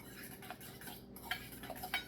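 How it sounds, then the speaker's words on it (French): Fork whisking egg into flour in a bowl for a gluten-free, sugar-free bread batter, a soft scraping and stirring with light clinks of metal on the bowl, fairly quiet and continuous. "Tu mélanges ça bien comme il faut avec une fourchette, là."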